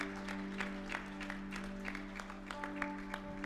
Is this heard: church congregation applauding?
yes